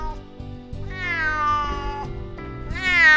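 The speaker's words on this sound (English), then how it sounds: "That cat is loud." A cat meows loudly and insistently in a drawn-out, wavering series of calls, close and prominent, rising in pitch toward the end, with a veterinarian visit as the setting.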